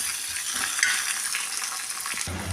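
Curry leaves and crushed garlic fry in hot oil in a pan, a dense, continuous crackling sizzle close up, with a brief stir or bump near the end.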